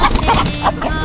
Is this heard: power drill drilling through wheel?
no